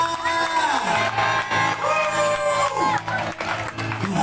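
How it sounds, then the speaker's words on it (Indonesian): A crowd at a market evangelism gathering cheers and claps in praise of God, with loud whoops and shouts over sustained music, close and energetic throughout. "Berikan tepuk tangan paling banyak bagi Tuhan."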